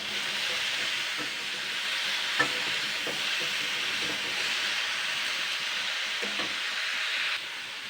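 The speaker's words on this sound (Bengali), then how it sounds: "সবজিটাকে কিন্তু ভালো করে কিন্তু ফ্রাই করে নিয়েছি" Vegetables fry and sizzle steadily in a pan with a constant hiss, broken by occasional soft clinks of stirring, with no voices.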